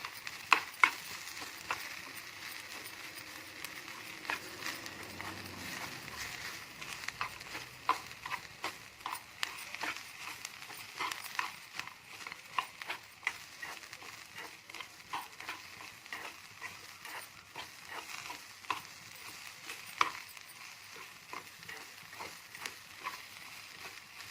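Grated coconut and roasted gram frying in a pan for a mutton curry, soft continuous sizzling with frequent light scraping and stirring clicks, close and fairly quiet.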